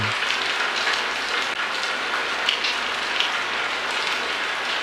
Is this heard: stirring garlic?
no